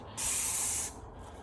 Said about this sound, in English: So let's go ahead and spray this thing.